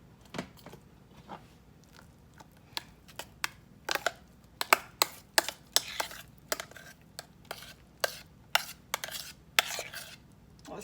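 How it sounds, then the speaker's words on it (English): A spoon clinks and scrapes against a dish again and again as parmesan cream mashed potatoes are spread over a shepherd's pie, in a series of close, irregular taps with soft squishing between them. "now we're going to start putting our potatoes on top. Parmesan cream potatoes."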